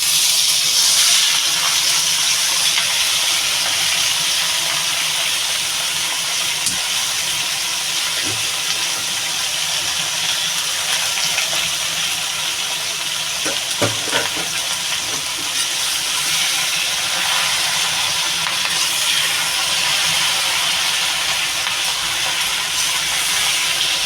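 Taro leaves poured into a hot pan with garlic, for a Bengali taro-leaf dish with hilsa fish head, give a steady loud sizzling hiss with steam that holds throughout, with a couple of faint clinks and no talking.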